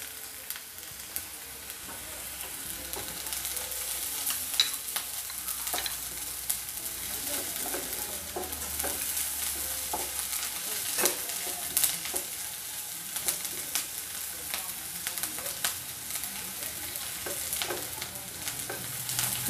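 Chopped ginger and green chillies fry with mustard seeds in a pan for rava upma, a soft continuous sizzle broken by frequent sharp scrapes and taps of stirring.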